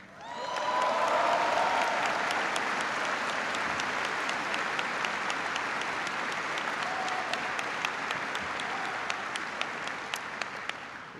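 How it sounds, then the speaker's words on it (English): A large crowd of troops at Fort Bragg applauds the Ground Forces Band, a dense, sustained roar of clapping with scattered sharp claps and a brief cheer, holding steady for about ten seconds. "give a big round of applause to the Ground Forces Band"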